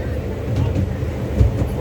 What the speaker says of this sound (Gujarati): બહુ સ્લો છે ટ્રેન